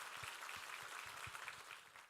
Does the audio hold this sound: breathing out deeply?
no